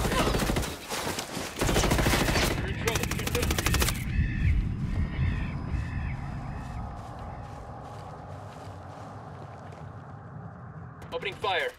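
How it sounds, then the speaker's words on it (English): Heavy automatic gunfire in the Ghost Recon video game, dense rattling bursts for the first few seconds, then a quieter stretch of ambient game sound with a brief burst returning at the end. "Opening fire."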